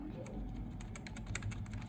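Fingers type on a computer keyboard, a quiet run of irregular clicking key taps that grows denser in the second half, with faint voices in the background.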